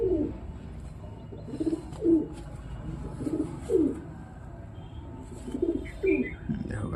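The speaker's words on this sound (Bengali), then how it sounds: "এই লাইনের পায়রাগুলো খুবই ভালো হয়" Domestic pigeons, including a newly bought bird of a fancy line, cooing in a home loft, a series of soft, low, rolling coos repeated every second or so with light background shuffling.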